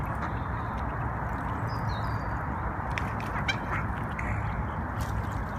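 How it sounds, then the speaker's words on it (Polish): A flock of waterfowl, ducks among them, on a pond fills the air with a dense, continuous wash of calls and splashing, steady and fairly loud with no clear single voice standing out and no talk. "Kaczuszki? A jak kaczuszki robią?"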